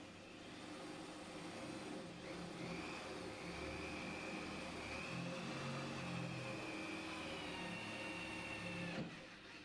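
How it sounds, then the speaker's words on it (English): A steady, continuous power drill whine runs for about nine seconds at close range, drilling a hole in a door for a bolt, with a faint rising pitch before it cuts off near the end. "Drill the hole."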